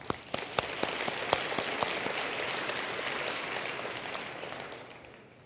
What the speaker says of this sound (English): and one more round of applause, I think.